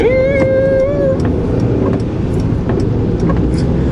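A small car engine drones steadily nearby with a thin, whiny note, like a racing car with a very small engine. A short high tone rises and fades at the start.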